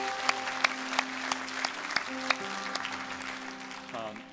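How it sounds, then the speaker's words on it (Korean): Congregation applause during a Sunday worship service in a church, a steady wash of clapping from many hands with a few sharper claps standing out over a sustained tonal hum. "우리 하나님께 큰 감사의 박수"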